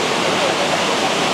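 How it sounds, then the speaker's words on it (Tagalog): Waterfall at Villa Escudero in Tiaong, Quezon, a steady broadband rush of falling water, loud and unbroken, with voices faintly mixed in. "tapos naririnig mo yung tubig"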